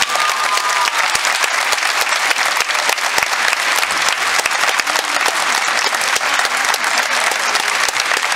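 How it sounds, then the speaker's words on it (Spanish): A theatre audience in Mexico City's Teatro de la Ciudad claps loudly and continuously, a dense, even wash of applause lasting several seconds with no voices over it. "Un gran aplauso para él."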